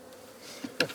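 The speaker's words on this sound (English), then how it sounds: "this is all the bees clinging to the inner cover" Honey bees clinging to the inner cover of a hive hum faintly and steadily, with a couple of brief louder bumps near the end as the cover is handled.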